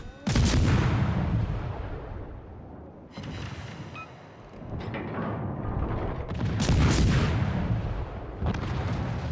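Heavy naval gunfire from warships in World of Warships, with loud booming salvos at the start and again near the end, each followed by long rumbling decay, with quieter crackling between blasts and no talk.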